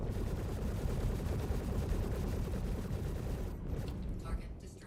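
Ship guns fire in rapid sustained bursts during a space dogfight in Star Citizen, with dense, heavy recoiling blasts that thin out near the end.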